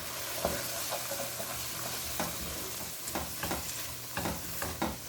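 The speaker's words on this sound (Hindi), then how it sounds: "आप अंडे को भी साथ ऐसे ही भून लेना" Grated carrot halwa frying in a pan with a whole egg cracked in, a constant close sizzle with repeated scraping and stirring strokes spread throughout.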